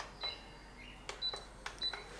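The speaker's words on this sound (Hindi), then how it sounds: "मैं गैस चालू कर देवा।" A kitchen gas stove is switched on with several sharp metallic clicks of the igniter, three distinct bursts close and alone.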